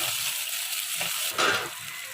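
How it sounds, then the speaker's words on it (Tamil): Onions sautéing in hot oil after fried vadagam, a steady crackling sizzle with a brief louder burst of stirring partway through. "வடகம் பொரிஞ்சோடனே வெங்காயத்தை போட்டு நல்லா வதக்கிக்குவோம்."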